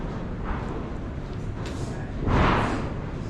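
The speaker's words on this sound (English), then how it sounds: "You can hear the wind blowing." Wind gusts across an outdoor winter farm equipment show among parked combines and tractors, a steady low rumble with a stronger blustery surge near the end.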